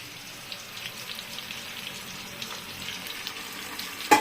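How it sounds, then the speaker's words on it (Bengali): Hilsa fish frying in a pan as part of a doi posto ilish preparation, with a steady soft sizzle and scattered crackling pops throughout, ending in a brief louder clatter. "মাছটা আমি বেশি কড়া করে তো ভাজবো না, এক পিঠটা হয়ে গেছে।"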